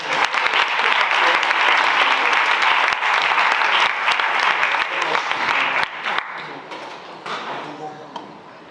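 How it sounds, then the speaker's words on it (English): Audience applause for Ms. Donna Brady at a Women's History presentation, a full, sustained burst of clapping that stays strong for about six seconds, then tapers off into lighter scattered claps while a voice speaks. "Please give a round of applause for Ms. Donna Brady."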